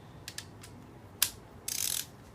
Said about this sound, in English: setting my torque wrench to 22 1/2 inch-pounds, because that's halfway between 20 and 25 inch-pounds